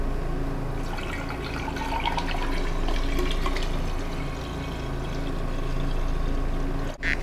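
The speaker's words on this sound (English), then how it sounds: "First, we'll fill with water." Water pours into a vase for a drop-in flower arrangement with aspidistra leaves, a steady splashing fill that runs continuously for several seconds, close and fairly loud, ending with a short sharp knock.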